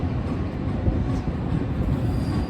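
A train rolls along the Roosevelt Road tracks in Chicago at restricted speed, a steady, dense low rumble with faint wheel noise running throughout, fairly close and with no talk.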